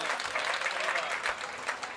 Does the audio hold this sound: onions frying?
no